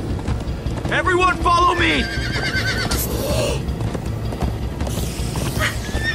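Horses galloping in the video game Minecraft Story Mode: rapid clip-clop hoofbeats and loud neighs and whinnies, with a voice calling out over the ride.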